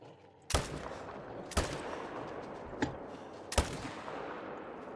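Four loud, sharp gunshots ring out at irregular intervals, each followed by a long echoing tail, as crocodiles are shot at in a video game, with no talk.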